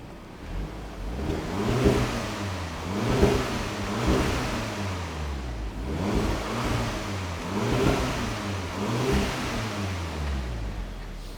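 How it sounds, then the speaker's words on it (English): A SEAT Altea's catback exhaust revs repeatedly, rising and falling in a steady rhythm of throttle blips over a rumbling idle, close by and fairly loud. "Here's what the catback sounds like as it is now."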